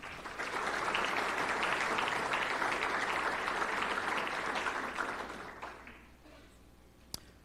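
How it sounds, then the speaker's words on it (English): Sustained applause from a crowd at a senior awards banquet, steady and full for several seconds before fading out, ending with a single sharp tap. "Let's have one more big round of applause for all of our Order of Titans recipients"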